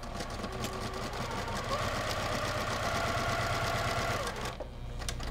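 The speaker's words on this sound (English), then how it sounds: "We're gonna go to the sewing machine. We're gonna stitch these two seams." A sewing machine runs steadily while stitching seams on a quilt pieced from mini charm packs and layer cakes, a close, even mechanical whir with rapid needle rhythm that stops near the end.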